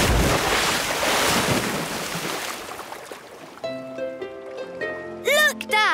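In a cartoon, an aircraft comes down on open water in the middle of nowhere, making a loud rushing, washing splash that fades over a few seconds, followed by quieter cartoon sound effects.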